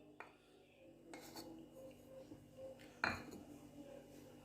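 A spoon scrapes and clinks against a metal cooking pot as yogurt is added for chicken malai handi, with a few light taps and one sharper knock late on, fairly quiet and without talk.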